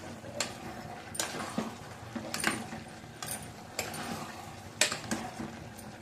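A spoon scrapes and clinks against a pan while butter paneer curry is stirred, giving a steady run of rhythmic metallic taps and scrapes, close and moderately loud, with no talking.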